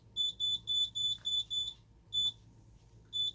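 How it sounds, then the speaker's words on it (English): A Simplex alarm panel sounds its exit delay: sharp, high electronic beeps repeat in a quick regular series, briefly pausing before resuming, over a low background hum. "You get your exit delay beep."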